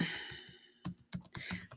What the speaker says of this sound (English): I don't know if I'm typing this search right.